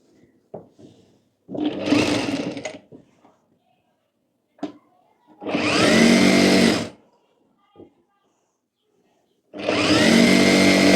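Three loud bursts of a sewing machine stitching a ladies' night suit, each lasting one to two seconds, close by, with short clicks and fabric handling sounds in the quiet gaps between.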